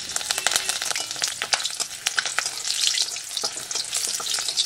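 Whole cumin seeds with dried and green chilies frying in hot oil for masoor dal, a dense, close, continuous crackling sizzle with sharp pops throughout and no talking.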